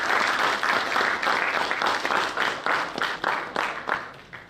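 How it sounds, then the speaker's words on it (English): Audience at the AGROVON 2023 event clapping steadily, a dense round of applause that holds for a few seconds and then thins toward the end. "A big round of applause for their students."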